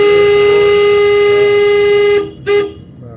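A car horn blares close and loud in one long sustained honk, cuts out, then gives a brief second toot, sounded during a driving lesson with the car's interior hum underneath.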